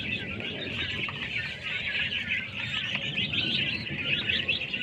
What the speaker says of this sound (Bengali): এই কোয়েল পাখিগুলো আজকে 30 দিন বয়স।